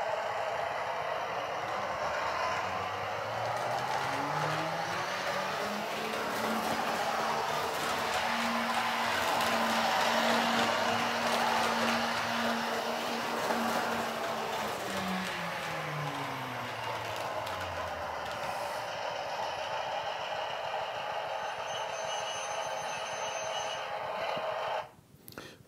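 Heljan model diesel locomotive running digital sound at full throttle on a Märklin three-rail layout, a loud continuous engine roar whose deep tone rises, holds steady and falls away as the throttle is opened and eased, ending abruptly.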